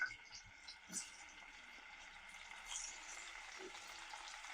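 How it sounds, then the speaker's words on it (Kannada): Cut paneer pieces fry in hot oil with a steady, close sizzle that hisses on without pause, with a few soft clicks and pops. "ಈಗ ಎಣ್ಣೆ ಬಿಸಿ ಆಗಿದೆ, ಇದಕ್ಕೆ ಕಟ್ ಮಾಡಿರೋ ಪನ್ನೀರ್ ಹಾಕ್ತಾ ಇದ್ದೀನಿ"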